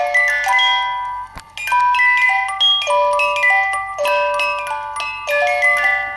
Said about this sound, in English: a vintage Swiss musical alarm clock in like new condition